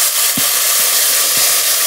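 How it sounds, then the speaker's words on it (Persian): Raw, unrinsed-then-drained rice grains frying in hot oil while cooking Thai-style pilaf, giving a steady, close sizzling hiss with a few soft stirring scrapes, no voices. "اینو به این اضافه میکنیم و تو روغن شروع میکنیم اینو پخت کردن"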